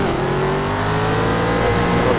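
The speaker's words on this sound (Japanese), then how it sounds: "このねアメ車らしい音がね素晴らしい。" A Chevrolet Corvette's V8 engine revs loudly and steadily in the racing game Need for Speed Shift 2, a deep rumbling American-car tone that climbs slightly in pitch with no talk over it.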